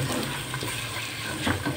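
Green peas tossed into hot oil with spices for matar biryani, giving a steady close sizzle with soft stirring scrapes throughout.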